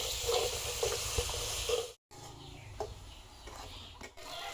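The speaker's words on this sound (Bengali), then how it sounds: "মশলাটা আমরা কিছুক্ষণ কষাই রাখলাম।" A Bengali spice mixture of chili powder, coriander powder and salt fries in a pan with a steady broadband sizzle. There is a brief silent break and a few soft scrapes of stirring, and no voice is heard.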